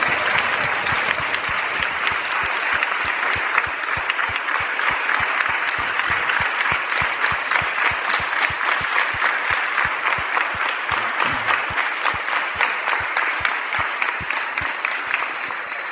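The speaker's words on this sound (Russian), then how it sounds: "Big round of applause for the parents." An audience claps steadily at a spiritual lecture, giving a warm round of applause for a young woman's parents. The dense, continuous clapping holds even and moderately loud for the whole stretch, with no voices over it.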